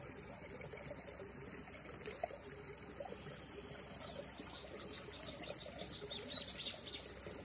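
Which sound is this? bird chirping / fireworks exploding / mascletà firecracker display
bird chirping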